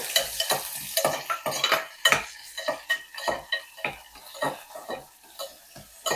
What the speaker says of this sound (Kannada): ಹಾಕ್ಕೊಂಡು ಜಸ್ಟ್ ಈ ರೀತಿ ಫ್ರೈ ಮಾಡ್ಕೋಬೇಕು ಫ್ರೈ ಮಾಡಿದ ತಕ್ಷಣವೇ ಆನಿಯನ್ ಹಾಕೋಬೇಕು